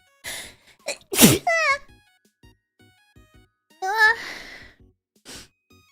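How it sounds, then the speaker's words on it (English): A person's sneeze rings out clearly near the mic, a sharp loud burst with a breathy lead-in, followed by a second softer vocal burst and small breaths in otherwise quiet surroundings. "Oh, hold on, I have to sneeze."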